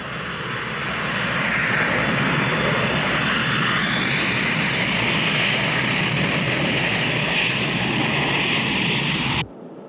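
A propeller airplane engine drones loud and steady, a broad roaring rush that swells slightly over about nine seconds before cutting off abruptly.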